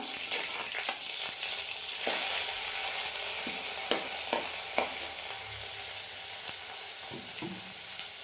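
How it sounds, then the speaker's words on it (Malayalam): Onions sauté in hot oil for a chicken curry, a continuous close sizzle broken by repeated spatula scrapes and stirring clicks, with no voices. "ഉള്ളി ഇട്ട് കൊടുത്തിട്ടുണ്ട്. ഒന്ന് ജസ്റ്റ് വാട്ടിയെടുക്കാം കേട്ടോ."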